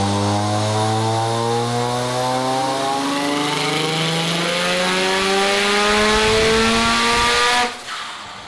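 A rotary-engined Corvette on a dyno pull during boost tuning, its engine howling loudly as the revs climb steadily for several seconds before cutting off abruptly.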